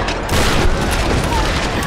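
An enemy's big gun firing in the Tomb Raider game: a loud sustained barrage of heavy shots roaring close for nearly two seconds after a brief quieter start, with a voice faintly mixed in.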